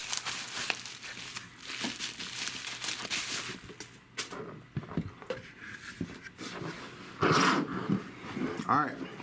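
Plastic wrapping around a Tzumi LED charging lamp crinkles and tears in bursts as it is pulled away, with a person talking intermittently over the rustling.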